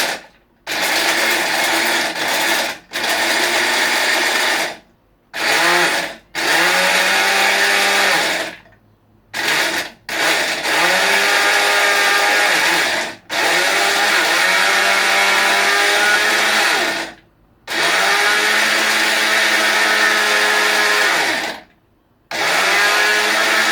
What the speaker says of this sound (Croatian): I staviti u mikser. I onda ćemo samljeti.